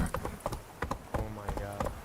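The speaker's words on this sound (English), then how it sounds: "It was easier to control this darn horse." In a video game, a horse named Roach clip-clops in quick, uneven hoofbeats close up, with someone talking over the steps throughout.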